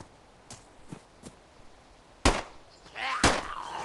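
Gunfire in the iOS pixel-art zombie game Mini DayZ 2: a few faint scattered shots, then two loud sharp reports about a second apart, the last trailing into a brief rumble.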